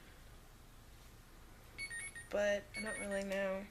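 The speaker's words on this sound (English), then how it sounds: "that's my alarm." A phone-style alarm starts chiming midway, a bright repeating electronic melody that grows louder in pulsing bursts, while someone talks quietly over it near the microphone.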